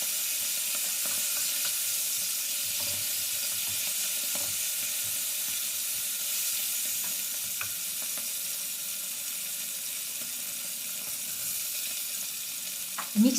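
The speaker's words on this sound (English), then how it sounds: "Then add the anchovy fillets, followed by the green olives." Anchovy fillets and green olives sizzle steadily in a hot skillet, a soft continuous frying hiss with faint stirring clicks, heard alone without talk, with a brief louder clatter at the very end.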